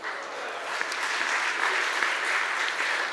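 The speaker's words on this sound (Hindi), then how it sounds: "ये तालियों का जादू जरूर होता है दो तरह से।" An audience at a district speech event applauds continuously, a dense, steady wash of clapping hands without pause.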